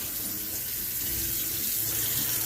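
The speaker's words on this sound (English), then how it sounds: "Conveniently, I have the water running nice and warm." Warm water runs steadily from a tap into a container for a Hoover Spin Scrub 50 carpet cleaner, a continuous close hiss and splash with no talking.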